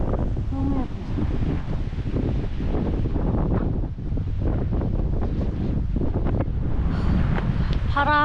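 Strong wind gusts across a mountain descent trail in Gayasan National Park, roaring steadily against the microphone throughout, with people talking over the buffeting.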